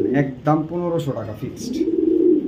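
Pigeons at a pigeon farm give low, soft coos, heard mostly near the end beneath someone talking close by.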